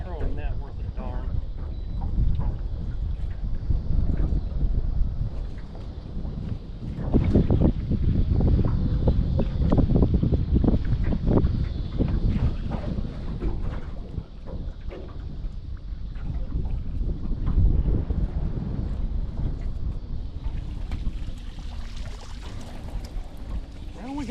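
Wind buffets the microphone while a bait net is thrown on an evening bait run by the water. Gusty low roaring rises and falls throughout, with occasional rushing splashes and an indistinct voice now and then.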